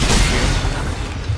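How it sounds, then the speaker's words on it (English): A loud, booming gunshot blast fills the scene in the sci-fi horror game Dead Space 2, its dense roar sustained and rumbling for over a second. "I'm just gonna shoot here."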